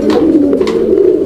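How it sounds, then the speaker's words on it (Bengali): A male pigeon, one of a breeding pair of black fancy pigeons on a farm, gives a loud, close, continuous throaty coo that warbles steadily with no talking over it. "3 নম্বর জোড়া নটটা ডাকলো, আমরা ডাকটা দেখাইছি আপনাদেরকে।"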